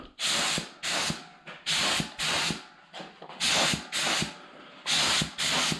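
Bursts of Cerakote coating sprayed onto 5.3 engine pistons for an S10 build, about ten short hissing passes with brief gaps between them, close and fairly loud, no talking.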